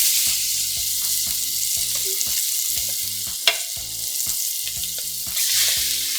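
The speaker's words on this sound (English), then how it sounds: "And then you're gonna sear your meat on all sides." Beef short ribs searing in olive oil in a hot pan, a steady loud sizzle with occasional crackles and pops running throughout.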